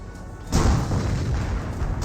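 Hellcat tank destroyer gun firing in the WWII strategy game Company of Heroes, a single heavy boom bursting in midway and rolling into a sustained rumble of battle noise.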